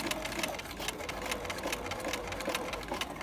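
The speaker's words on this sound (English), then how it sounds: "So what we're doing really is we're just sewing a straight stitch." A sewing machine runs a straight stitch along a sleeve seam, a fast, even mechanical whir with rapid needle ticking that holds steady and close for a few seconds.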